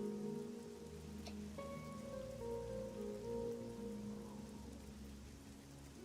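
Quiet rain ambience in the Spyro video game, a soft patter of falling drops beneath gentle sustained musical tones.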